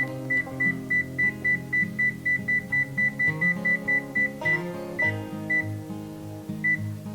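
An oven sounds a rapid string of sharp electronic beeps as it is switched on and set to 450 degrees, the steady tones running for about four seconds before a few scattered final beeps trail off.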